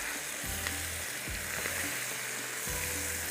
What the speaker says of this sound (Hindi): ये डाल देते हैं आलू। इसको थोड़ा सा कम करेंगे और मिक्स कर लेंगे।